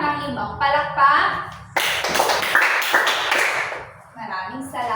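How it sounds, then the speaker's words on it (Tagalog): A classroom of children clapping together in a burst of about five rhythmic claps, loud and close, with young voices talking just before and after. "Bigyan nga ng bawat isa ng 5 palakpak."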